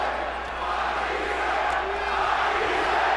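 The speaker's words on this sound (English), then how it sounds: "the crowd is chanting, Matisse, Matisse, Matisse" A large boxing crowd roars and chants the fighter's name Matisse, a steady loud wash of many voices with no break.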